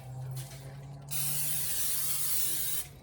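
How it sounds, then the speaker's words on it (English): A steady hiss of aerosol non-stick cooking spray onto a baking dish for macaroni and cheese, one short puff followed by a longer continuous spray lasting almost two seconds, close by, with a faint background hum. "I'm going to give it a quick spray with our non-stick spray"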